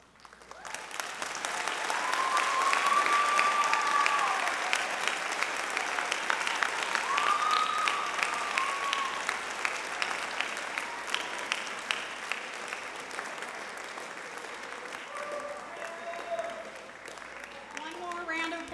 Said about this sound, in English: One more round of applause for these wonderful night riders.